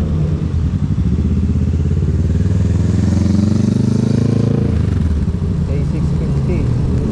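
Big bike motorcycles ride alongside on a Batangas road, their engines droning loud and steady with wind noise throughout, swelling briefly mid-way; voices talk over the engine hum.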